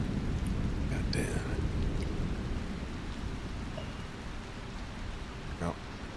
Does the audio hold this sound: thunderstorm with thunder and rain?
yes